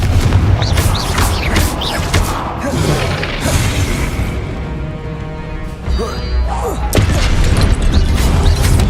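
Hogwarts Legacy gameplay full of booming fiery Confringo spell blasts, loud repeated bursts and crashes layered over game music and effects, with a voice calling out spell names throughout.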